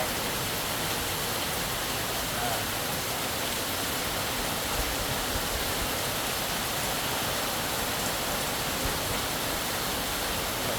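Rain pours steadily in Kanchanaburi, a dense, even hiss of heavy rainfall that continues without a break and with no voices.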